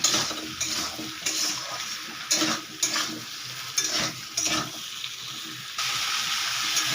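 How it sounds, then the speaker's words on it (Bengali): Cut taro and potatoes sauté in a pan, giving a loud, close sizzle with several spatula stirs and scrapes, then a steady frying hiss at the end. "কেটে রাখা মুখি কচু আলু দিয়ে দিলাম। দিয়ে আমি ভালো করে কষিয়ে নেব।"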